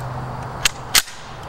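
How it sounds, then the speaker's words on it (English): A 7.62 Rasheed rifle fires outdoors, heard as two sharp cracks a fraction of a second apart, the second louder, over a steady low background hum with no talking. "Got the Rasheed. I'm going to shoot it"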